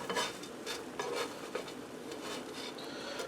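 Grilled cheese sandwiches fry in a pan with a light, steady sizzle and crackle, joined by a few soft clinks and scrapes of a utensil against the pan at close range.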